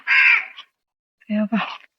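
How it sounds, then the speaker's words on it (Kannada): Crows at a beach give two harsh caws, close and loud, the first a long rasping call and the second a doubled caw after a short pause. "ಇಲ್ಲಿ ಕಾಗೆಗಳು ಜಾಸ್ತಿ ಇದಪ್ಪ"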